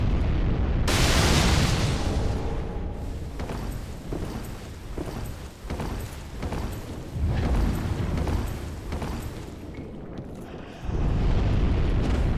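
Bomb explosions in Dark Souls III, loud deep booms with rumbling debris, one big blast early, a series of thumping bursts through the middle and another heavy blast near the end.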